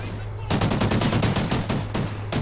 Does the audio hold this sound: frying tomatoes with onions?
no